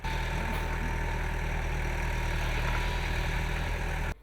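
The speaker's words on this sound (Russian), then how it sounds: "Несколько тракторов выравнивают почву и роют котлован для пожарного водоема." Several tractors levelling soil and digging a pit for a fire-water reservoir at a school construction site, heard as a steady, loud low engine drone running continuously before cutting off abruptly at the end.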